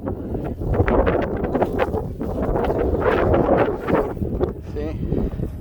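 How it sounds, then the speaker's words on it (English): Heavy gusting wind on a walk through deep snow during a snowstorm, a loud, steady, close rumble of buffeting across the microphone with fluctuating gusts. "You can see how windy it is."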